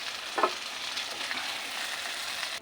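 Garlic sautés in a hot pan with a sharp sizzle burst as it hits the oil, then settles into a soft, steady frying hiss, close and unaccompanied by talk.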